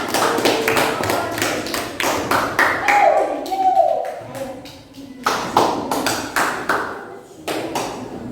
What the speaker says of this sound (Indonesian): Beri tepuk tangan untuk kelompok luas permukaan.